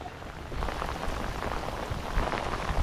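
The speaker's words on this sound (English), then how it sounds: "It is pouring rain." Heavy rain pours down outdoors on a fishing trip as a hurricane closes in, making a dense, steady hiss of drops drumming on surfaces that stays fairly faint and unbroken, with no talk.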